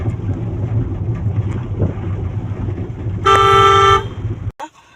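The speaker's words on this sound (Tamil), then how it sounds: "இப்போ வந்து டாப் கியரில் தான் போயிட்டுருக்கோம். 5th கியர் போட்டிருக்கோம்." Car driving at speed in fifth gear, a steady low road and engine rumble that fills the clip, interrupted near the end by a loud horn blast lasting under a second before the sound cuts off.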